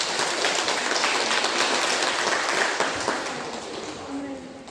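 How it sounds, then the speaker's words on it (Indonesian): Sustained applause from a crowd at a pharmacy assistant graduation and oath-taking ceremony, honoring top graduates; dense continuous clapping at steady loudness throughout, tapering slightly at the end. "Berikan tepuk tangan yang meriah."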